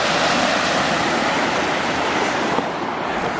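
River rapids in the Pioneer Valley near Mackay rush in a steady, loud, broadband roar of churning water, continuous and close with no voices.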